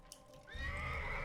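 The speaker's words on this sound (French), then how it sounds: "je veux juste monter sur mon cheval." A horse neighs in the Assassin's Creed video game, a loud whinny rising after a quiet opening and holding strong to the end with no talk over it.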